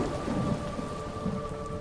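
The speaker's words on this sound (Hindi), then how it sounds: "हम बाहर बारिश और कड़कड़ाती बिजली की आवाज अच्छे से सुन पा रहे थे।" Heavy rain pours steadily outside with a rumble of thunder, a dense continuous wash of sound heard from indoors, with no voices present.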